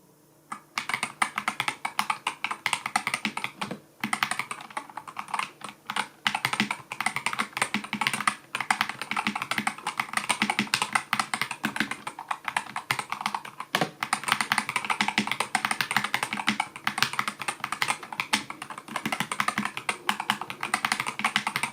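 Steady, continuous keystrokes on a DAREU EK60 keyboard with Hall Effect magnetic switches, a dense rapid clatter of clicks running close and clear for the whole stretch with only brief pauses.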